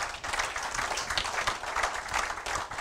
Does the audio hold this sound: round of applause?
yes